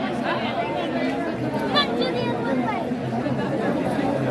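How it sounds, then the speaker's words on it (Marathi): Dense crowd chatter fills the air at the Khandoba-Mhalsa royal wedding festival, many overlapping voices in a steady, close hubbub with no single speaker standing out. "बघा किती गर्दी आहे."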